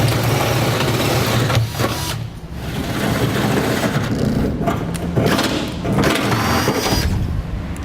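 A drill enlarges pilot holes to 1/2 inch in a 2016 GMC Sierra 3500 bed frame, whining and grinding loudly in several bursts separated by brief pauses.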